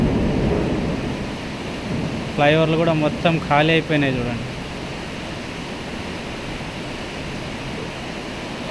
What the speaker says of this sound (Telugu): ఫుల్ వర్షం ఉంది హైదరాబాద్లో.